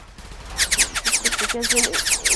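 Rapid bursts of automatic gunfire in the video game War Tycoon, loud and close, rattling in quick repeated volleys with brief pauses between them.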